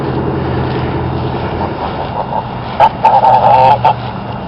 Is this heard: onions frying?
no